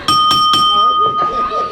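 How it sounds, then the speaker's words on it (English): A wrestling ring bell clangs three times in quick succession to open a hardcore-rules match at a studio show, each bright strike ringing briefly before a commentator's voice takes over. "Ring the bell."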